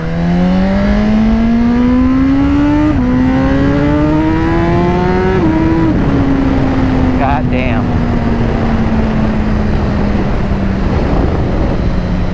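Suzuki Gixxer 1000 sportbike revving and accelerating hard, engine note rising through several gear shifts before settling into a steady fading drone, loud and close, with a voice briefly over it.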